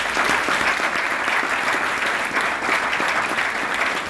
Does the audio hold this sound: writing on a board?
no